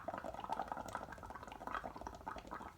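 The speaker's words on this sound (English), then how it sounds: "I have a straw. I'm going to blow bubbles in." Bubbles blown through a straw into a mix of red food coloring and dish soap make a continuous close gurgling, bubbling burble, steady and alone.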